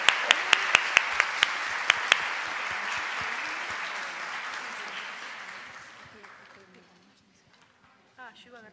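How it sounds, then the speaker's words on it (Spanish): An audience at a national forum conference on human trafficking applauds a speaker. Sharp close claps stand out at the start over a broad wash of applause that gradually fades, and a voice is heard near the end. "Le agradecemos con un aplauso."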